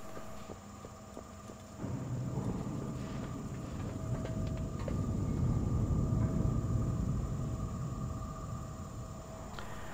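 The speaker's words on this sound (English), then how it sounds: "This is the tram, the Deep Run tram." Deep Run tram in World of Warcraft rolling along its track, a low rumbling roar that swells after a couple of seconds and holds steady, with faint clicks and mechanical whine above.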